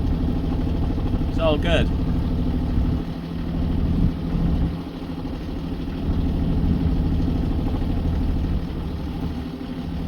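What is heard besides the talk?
boat engine running on the Caledonian canal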